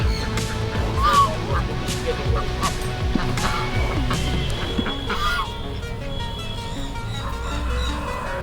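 Jungle fowl call repeatedly in the rural countryside of Chikkaballapura district, Karnataka. The calls sound fairly close but sit within a dense, noisy outdoor background.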